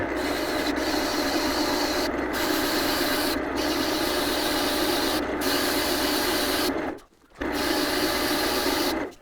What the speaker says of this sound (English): It's just sand this away until all the chalk is gone